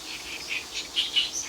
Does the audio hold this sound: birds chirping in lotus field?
yes